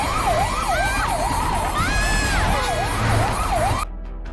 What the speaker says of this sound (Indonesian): terlihat mobil ambulans melaju kencang menuju ke arah Ana